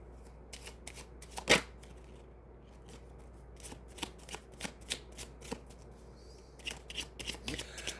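A deck of tarot cards being shuffled, quiet riffling bursts and soft card slaps in irregular runs, close and faint, with pauses between and a sharper snap near the start.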